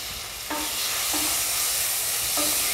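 Chopped tomatoes dropped into hot oil for chicken gravy, a bright, loud steady sizzle with a few short stirring scrapes under the hiss, no voices.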